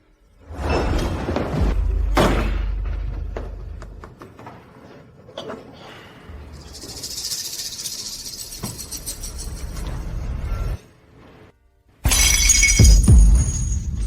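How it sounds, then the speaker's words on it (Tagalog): Something breaking by accident, loud thuds and a rush of shattering debris, then a long scattered crash that fades and a second bright burst of breakage near the end. "Nabasag ko ng hindi sinasadya."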